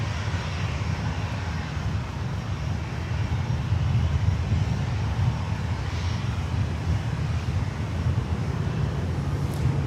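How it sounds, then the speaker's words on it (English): A Saab 340 turboprop arriving at Miami from Havana on a runway 8 approach gives a steady, loud low engine drone that holds nearly constant for the whole stretch, with faint traffic-like rumble underneath. "A Saab coming in, 340 from Havana on, looks like a runway 8 arrival."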